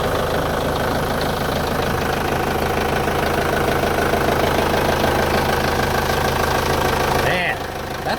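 A used tractor on a Kentucky farm idles with a diesel engine, a steady loud rumble with a fast knocking throb that stays even throughout and dips slightly near the end, close by.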